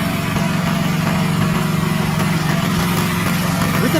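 A Tora STX-6 tree stump grinder's powerful engine drones in a steady, loud, continuous rumble close by, with no voices over it.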